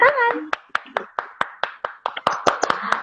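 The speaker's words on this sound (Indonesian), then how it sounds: "sambut dengan tepuk tangan." A small group claps to welcome a guest on a livestream, about a dozen separate, sharp claps in an uneven rhythm after a short stretch of talk, close to the microphone.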